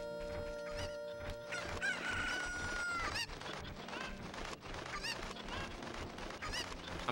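Cuccos, the chickens of Kakariko Village in Ocarina of Time on the N64, clucking and squawking repeatedly in sharp bursts over steady game music, fairly close, with no talking.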